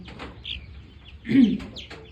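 Silkie chicks give soft, brief clucks and peeps close by, with one louder burst of clucking midway against a quiet indoor background.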